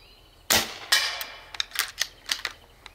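AEA HPMax 9mm air rifle carbine fired in quick succession: two loud sharp shots followed by a rapid string of smaller cracks and clicks, close by, with no talking.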